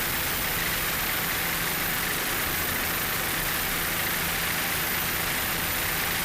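A brand-new 32-foot Doug Wright offshore racing powerboat, built by Supreme Marine of Fort Lauderdale, drones steadily through a Super Stock race in 2007, its engines a dense, continuous roar blended with broadband water and wind rush, with no voices.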